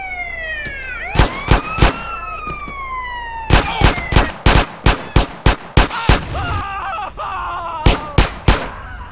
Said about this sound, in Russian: Взрыв на взрыве, а?